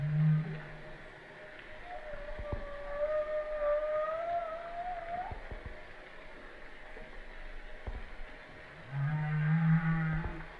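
A whale call recording with long, sliding tonal moans that glide upward across several seconds, bracketed by low, buzzy grunts at the start and near the end, steady and fairly quiet throughout.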